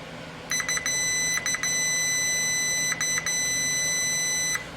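A multimeter gives its continuity beep: a steady high-pitched electronic tone that holds for about four seconds, broken by a few brief stutters where the leads lose and regain contact, loud and close.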